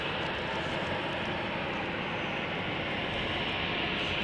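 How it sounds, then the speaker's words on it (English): Steady broadband roar of aircraft engines and ground equipment at the de-icing pad at Chicago O'Hare in winter, a constant dense wash of noise with no gaps, fairly distant and unchanging throughout. "We've got lots of noise coming from the de-icing pad here."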